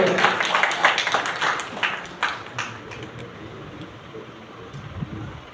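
Audience applause at a ceremony, a short burst of scattered clapping in a hall that thins out quickly and gives way to quiet room noise and faint talk.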